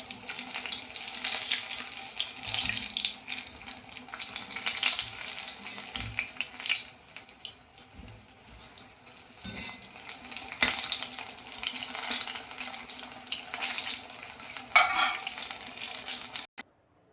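Egg bajji fry steadily in hot oil, giving a continuous crackling sizzle that lasts throughout, with a brief lull partway and a few clinks of a utensil.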